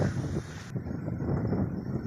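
Stormy wind buffets the microphone beside a river in a continuous low, rumbling roar, loud and close, with no voices.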